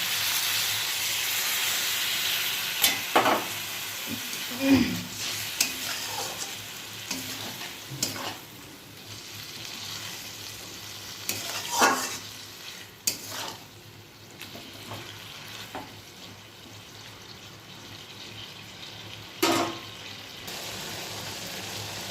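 Bhendi (okra) masala in a pan sizzles and hisses steadily after a little water is added. Occasional scrapes of stirring sound close by throughout, with no one talking.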